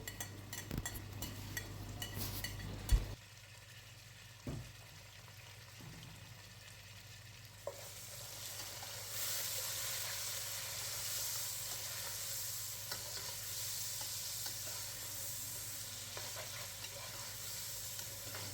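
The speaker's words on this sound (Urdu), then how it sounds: "پیاز کے اندر جو مسالہ ہم نے کاٹا تھا ٹماٹر، گارلک، جنجر اور سبز مرچ، یہ مکس کر دیں گے، اسے اچھی طرح سے ہلائیں گے" Fried onions with tomato, garlic, ginger and green chilli get stirred in a pan, a steady sizzle running throughout with occasional scraping and clinks of a spoon against the pan.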